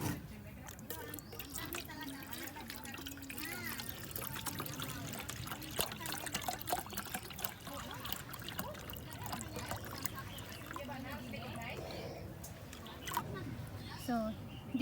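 Water is poured into a pot to make broth for sinigang fish soup, at an outdoor beach spot, giving a faint steady trickle and splash under people talking.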